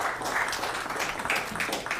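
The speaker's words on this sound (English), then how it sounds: "Please give Oksana a round of applause." An audience at a live onstage conversation about early-stage investing applauds, a steady wash of many hands clapping that holds at an even level for the full two seconds, with no voices.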